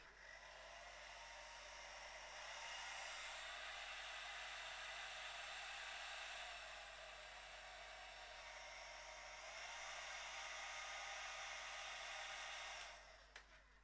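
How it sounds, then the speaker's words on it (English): A hair dryer blasts a painted miniature helmet with a steady, faint, broadband whoosh of airflow that swells and eases slightly over about fourteen seconds before cutting off near the end. "you take your hairdryer and give it a blast"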